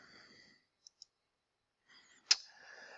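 A computer mouse clicking while a graph of a linear inequality is shaded: two faint, quick clicks in near silence, then one louder click amid light breathing.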